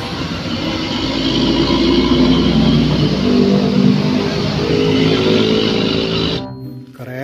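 Toy Pertamina tanker truck with a motor sound, a steady engine-like drone with a rough, revving tone that holds for about six seconds before cutting off abruptly.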